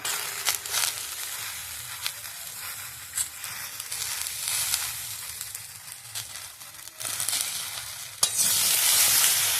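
Wax apple chutney with turmeric and salt stirred in a pan, a steady loud sizzle with repeated scraping and stirring strokes throughout.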